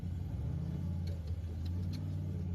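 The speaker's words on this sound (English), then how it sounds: "I think that is where he's changing gears, shifting in his transfer box." An off-road racing vehicle's engine drones low and steady at a distance, with a faint shift in its transfer box during a rough, bumpy race; no one talks.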